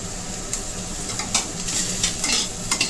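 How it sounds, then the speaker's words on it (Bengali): A momo filling with coriander leaves is stirred in a pan, giving a steady scrape and sizzle of frying food with occasional sharper utensil knocks against the pan. "একটু নেড়ে চেড়ে একটু সয়া সস আর একটু গোলমরিচের গুঁড়ো দিয়ে নামিয়ে নেব পুরটা।"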